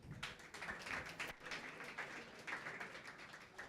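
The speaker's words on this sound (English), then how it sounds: "Give a big round of applause, guys." Audience clapping at an international surf competition's final-day ceremony, a steady wash of dense applause lasting a few seconds, fairly faint and distant, with no talk over it.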